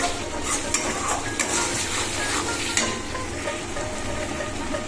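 Hot water poured into a sizzling chitol fish curry whose oil-fried spice paste is spitting, giving a loud, dense hiss with a few clinks of a utensil against the pot, and no voices.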